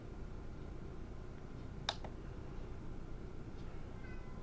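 A cat gives one short, faint meow partway through, with a quieter second sound just after, over a soft, steady background hush.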